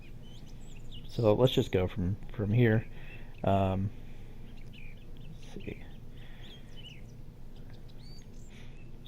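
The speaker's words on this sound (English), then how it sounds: "like you'll hear the birds chirping a lot." Looping birdsong ambience in a supermarket simulator video game chirps faintly and sporadically in the background while someone talks over the first half.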